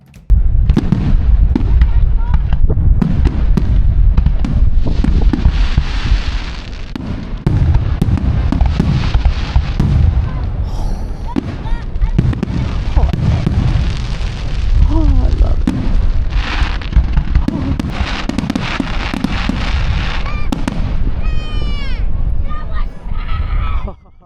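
Fireworks booming and crackling in a steady barrage at Jekyll Island, Georgia, loud and continuous, with the murmur of a watching crowd underneath.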